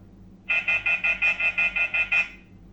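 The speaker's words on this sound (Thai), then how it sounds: "นี่คือเสียงไซเลนก็จะไม่เหมือนกับไซเลนทั่วไปนะครับ" A security camera's electronic siren alarm sounds ten quick pulsing beeps in an even rhythm, loud and close, then stops abruptly.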